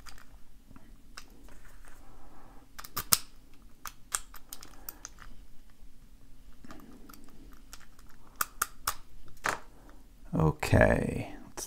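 Dial of a Master Model 1670 school locker combination lock turning, a run of small close clicks and ticks with a louder rattling burst near the end.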